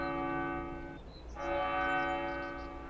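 Village church bells ring in Farming Simulator 22, sounding as loud sustained tolling tones that break off briefly and then swell back, with bright overtones layered over a steady hum.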